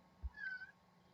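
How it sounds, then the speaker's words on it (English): A house cat lets out a single short, faint meow in the background of a quiet indoor room, with a soft thump just before it. "that's my cat."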